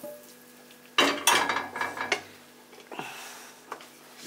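Squid and seafood filling stirred in a pan for a pastilla, a utensil scraping and clinking against the pan in a few close bursts with some soft sizzling, with no talk.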